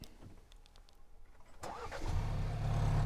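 A Ford Ranger starting by remote start: a short starter crank, then the engine catches into a loud, steady idle that settles and continues.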